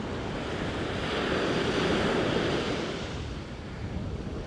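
Waves wash steadily onto a Mediterranean beach in Cyprus, a continuous broad rushing surf swelling and easing, mixed with wind buffeting the microphone, close and fairly loud with no voices.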